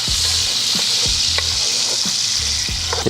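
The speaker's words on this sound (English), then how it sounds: "Now that I got my oil back up to temp, I always start, anytime I'm doing anything, I start with my onions first" Onions frying in hot oil in a pot, a loud, steady sizzle with occasional stirring scrapes, close and continuous, no voices.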